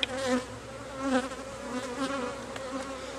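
Agitated honeybees buzz close around an open hive during a split, a dense continuous drone with rising and falling whines as individual bees pass near.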